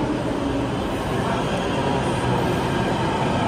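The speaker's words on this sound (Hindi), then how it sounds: "आ गई भाई दिल्ली मेट्रो अपनी।" Steady rumbling roar of a Delhi Metro train arriving at a station, broadband and continuous for the whole stretch, fairly loud and close.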